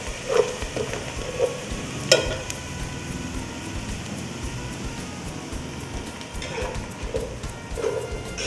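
Onions with a dash of salt frying in a pan for Muslim dum biryani, a steady close sizzle with occasional clinks and scrapes of stirring, moderately quiet and continuous.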